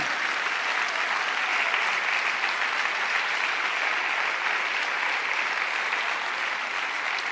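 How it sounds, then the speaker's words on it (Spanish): A church congregation applauds steadily for several seconds, a dense, even wash of many hands clapping together with no voices standing out. "¿No le dan un aplauso al Señor?"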